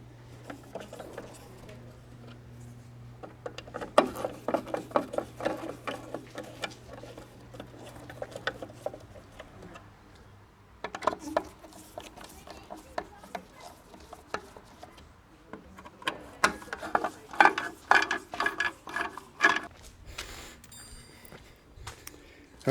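A hand tool backs out Torx 20 screws holding a Jeep's third brake light, giving close, irregular clicks, taps and scraping turns in scattered bursts with quiet gaps between them.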